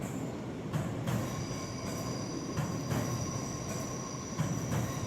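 A train rolls along rails near Merano, giving a steady rumbling ride with periodic wheel clicks over rail joints and a faint high squeal, continuous and moderately loud with no voices.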